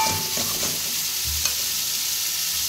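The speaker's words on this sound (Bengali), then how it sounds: "পেঁয়াজ, রসুন, আদা, জিরে বাটা, শুকনো লঙ্কা, টমেটো দিয়ে ভালো করে কষিয়ে নিয়েছি" Onion, garlic, ginger, cumin paste, dried chilli and tomato frying in oil, a dense continuous sizzle with a few faint stirring scrapes, close and loud with no talking.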